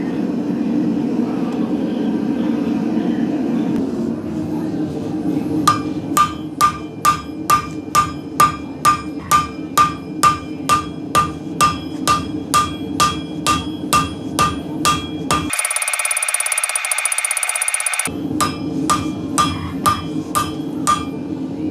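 Hammer pecking texture into thin steel cut from an empty can, a long series of sharp, evenly spaced metallic taps close by over a low background hum, with a short pause partway through.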